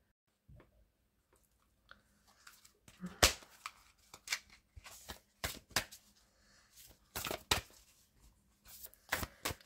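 Large oracle cards shuffled by hand during a sentimental guidance reading, giving a series of soft riffling flaps and sharp snaps in uneven bursts, close and fairly quiet against near silence.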